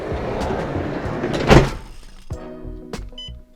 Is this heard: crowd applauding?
no